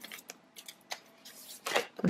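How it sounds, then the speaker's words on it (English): A sticky tarot card deck being shuffled by hand in quiet, soft riffling bursts and taps, with a louder rustle near the end. "This deck is so hard to shuffle."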